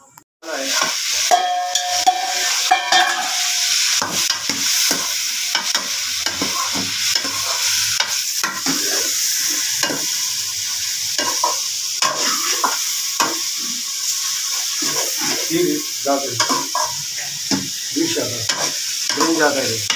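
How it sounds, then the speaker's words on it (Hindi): Meat stirred into a biryani pot as it fries, with a steady loud sizzle and frequent scraping of a spoon against the pot, continuous and close, with a few brief background voices. "ये गोश्त हम इसमें डालेंगे"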